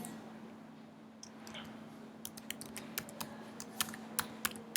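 A password is typed on a computer keyboard, light key clicks tapping out in quick bursts over a quiet room hum, growing more distinct toward the end.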